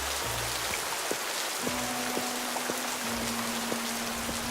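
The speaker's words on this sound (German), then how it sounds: "Ja, und das regnet immer noch, gell?" Steady rain patters down in the video game Creativerse, a dense continuous hiss with occasional droplet ticks, while a sustained low synthetic tone hums underneath.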